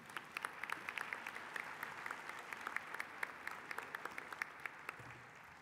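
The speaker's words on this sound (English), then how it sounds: "Please join me in giving him a round of applause as he comes forward." Broad crowd applause at a university commencement ceremony, many hands clapping continuously with distinct sharp claps standing out, heard from a moderate distance.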